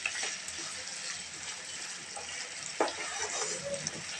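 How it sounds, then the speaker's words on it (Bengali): Beef cooks in a pot while being stirred and mixed, giving a soft, steady sizzling hiss with light scraping and a brief clunk of the spoon partway through. The sound is fairly faint and close. "ঢাকনা উঠিয়ে মাংসগুলোকে আমি আবারও খুব ভালোভাবে নেড়েচেড়ে মিশিয়ে নেব"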